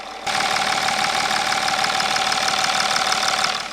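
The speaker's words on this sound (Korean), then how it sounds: "엔진 소리 한번 들어보시죠." A Mercedes-Benz S-Class W222 diesel engine idles steadily nearby, a constant rumbling drone with a faint knocking texture that starts abruptly and holds without change.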